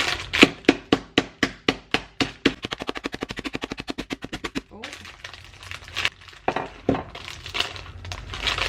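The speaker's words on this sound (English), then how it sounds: "I'm literally just gonna bash them and then mix in the crumbled mini egg into that shortbread mix" Chocolate mini eggs sealed in a packet are bashed with a rolling pin, giving a rapid run of loud, sharp cracking thuds that speeds into a dense burst before slowing to a few scattered knocks.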